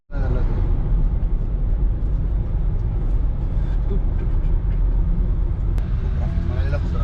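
Holiday traffic jam on a road, a loud continuous rumble of idling car and bus engines close by with a brief hiss near the end.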